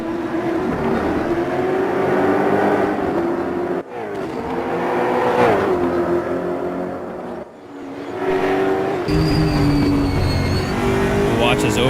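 ESR Aquila race cars scream around the Monza circuit, their engines roaring loudly as they rev and shift, with brief dips between passes and a voice talking over the noise.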